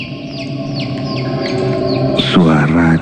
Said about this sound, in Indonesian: Kok ada suara anak ayam sih? Malam-malam lagi.